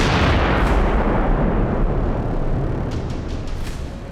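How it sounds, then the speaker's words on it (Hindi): Bunker buster bomb explosions in the Israel–Gaza war, heard as a loud, continuous, rumbling blast roar that fills the whole stretch, with a few sharper crackling bursts late on and no voices. "अब इजराइल का वो हथियार देखिए जो इस जंग में पहली बार इस्तेमाल हुआ। बंकर बस्टर बम, इजराइल का नया हथियार।"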